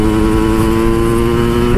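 A Yamaha RX King two-stroke motorcycle engine while riding, a loud, steady buzzing drone held at constant revs, close and continuous with a slight pitch shift at the end.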